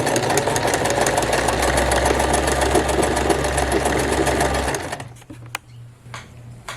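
A sewing machine stitches a zigzag through knitting, a fast loud mechanical whir for nearly five seconds that then stops abruptly, leaving a faint low hum and a few small clicks.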